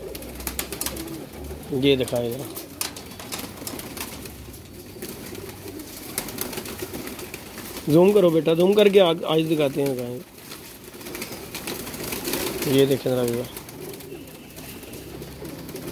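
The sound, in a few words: Teddy pigeons cooing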